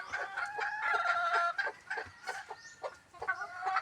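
Several hens cluck and squawk agitatedly close by as their eggs are taken, overlapping calls in a busy, excited chorus.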